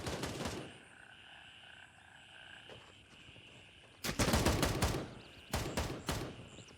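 Gunfire in the tactical shooter Gray Zone Warfare: a burst of shots at the start, then two loud clustered volleys of rapid shots near the end, with a quieter ambient stretch between.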